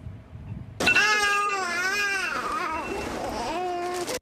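A baby cries at the Rio Grande Valley section of the U.S.-Mexico border while Border Patrol agents process migrants. The wavering, sustained wails start abruptly and carry on over faint background murmur.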